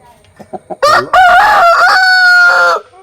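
A country chicken crows loudly from close by, a long drawn-out call that follows a few short clucks.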